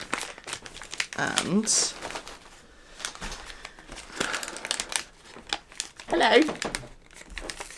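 Gift bags with beach ball stickers crinkle and rustle in bursts, loud and close, mixed with people talking.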